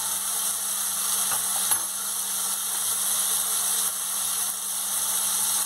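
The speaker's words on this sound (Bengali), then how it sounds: "টমেটোটা একটু ভালো করে ভেজে নেবো" Chopped tomato frying in oil with turmeric powder for a fish curry, a low steady sizzle with faint stirring scrapes and no voices.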